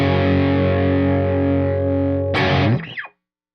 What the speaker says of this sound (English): I'm here to show you the Zoar Dynamic Audio Grinder.